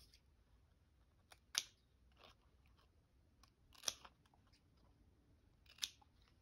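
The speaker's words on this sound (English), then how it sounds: "Cut one of these up." Three sharp, crisp snips, most likely from scissors cutting a piece apart, come at intervals of about two seconds against a quiet room, with a few fainter rustles in between.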